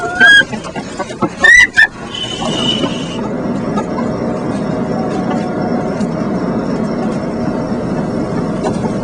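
Battery-caged hens on an egg farm clucking and squawking in a few loud bursts early on, then a dense, steady murmur of many birds with mechanical hum in a large enclosed space.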